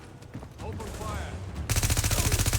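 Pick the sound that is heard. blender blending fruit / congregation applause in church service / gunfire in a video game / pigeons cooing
gunfire in a video game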